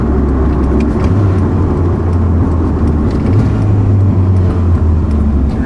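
A loud, close turbocharged Toyota GT4 engine with a BEAMS engine, exhaust straight off the manifold, running with a deep, steady rumble and a rising whir as it revs on boost, unmuffled and harsh throughout.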